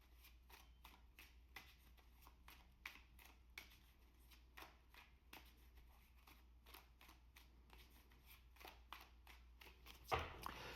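Tarot cards being shuffled at a tarot reading, with repeated soft riffling bursts and card slaps in an irregular rhythm, fairly quiet and close, with no talking.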